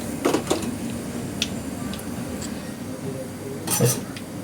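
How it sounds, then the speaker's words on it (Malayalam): Mustard seeds popping in hot coconut oil in a pan: a few sharp, sparse crackles and snaps over a low steady hiss, fairly close, with a brief burst near the end. "നമ്മുടെ കടുക് പൊട്ടി തുടങ്ങി കേട്ടോ"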